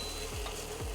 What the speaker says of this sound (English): Sizzle, lots of sizzle. It is a lot of sizzle.